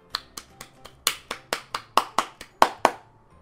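Sharp, evenly spaced claps ring out alone in a Donald Trump dating-sim video game, about a dozen crisp hits in quick succession like a small, thin round of applause.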